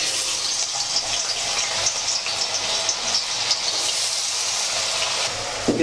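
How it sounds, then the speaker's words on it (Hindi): Potatoes, drained of their water, dropped into hot bubbling oil for chivda matar, giving a steady loud hissing sizzle that fills the whole stretch with no talk. "ये गर्म हो चुका है तेल अपना, और आलू में से पानी निकाल के रख लिया हमने। अब इसमें आलू डाल देंगे हम।"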